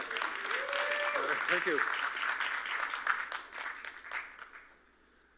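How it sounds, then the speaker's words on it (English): An audience at a live-streamed event in NYC gives a round of applause that gradually thins and trails away, while a voice speaks over the start of it. "I was hoping for a round of applause or something for that."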